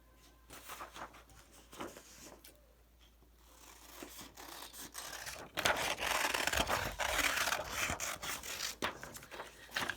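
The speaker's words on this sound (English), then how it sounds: "So then just make a smaller U shape, and then you can cut that out." Scissors snip and scrape through paper, cutting out a U shape for a kindergarten penguin craft, soft at first and then louder and steadier rasping cuts close by.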